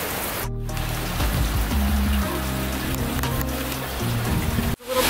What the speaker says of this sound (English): It's like downpouring, so we're hiding out in this little shop cover until it stops raining so much.